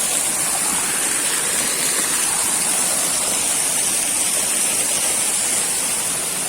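Waterfall inside a cave system in Aladağlar National Park near Yahyalı, Kayseri, a constant loud roar of rushing water that stays steady and close from start to finish with no voices.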